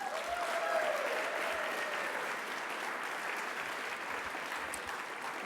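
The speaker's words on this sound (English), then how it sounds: "let's give a big round of applause for all the recipients tonight" Audience applause at a health-care awards dinner honoring recipients, a broad steady wash of many hands clapping that fills the room at an even level from start to finish.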